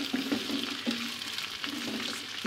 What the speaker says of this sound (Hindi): हमने तेज़ आंच के ऊपर इसको चिकन को बहुत अच्छे तरीके से फ्राई कर लिया